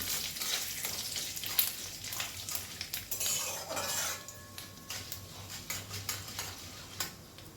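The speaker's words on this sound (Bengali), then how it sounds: "এক চামচ মৌরি দিয়ে দিচ্ছি সাদা কালো মেশানো এক চামচ সর্ষে কয়েকটা দানা মেথি ভালো করে একটু নাড়াচাড়া করে নেব সব কিছু" Fennel, mustard and fenugreek seeds are stirred in a pan of oil, with a faint sizzle under repeated light scrapes and clicks of a utensil against the pan at moderate distance.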